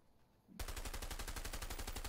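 Shotgun fire in the video game A Way Out, starting as a rapid, dense burst of loud repeated blasts that runs on without a break, close and with no talk over it.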